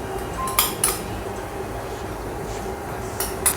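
Egg yolks and icing sugar being mixed in a bowl, with utensil clinks and scraping against the bowl over a steady background, a few sharper knocks standing out, no talking.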